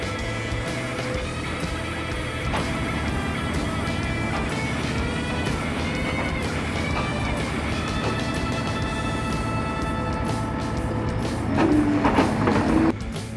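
A skid steer with electric latch loads a Wolfe Ridge log splitter onto a trailer; its engine drones steadily and loudly throughout, with a brief higher mechanical whine near the end.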